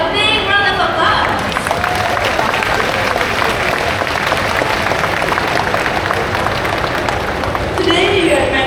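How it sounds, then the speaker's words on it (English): A crowd at a bird show in Bird Paradise breaks into loud, continuous applause that runs through the middle, with a voice speaking at the start and end. "let's show them our appreciation by giving them a big round of applause"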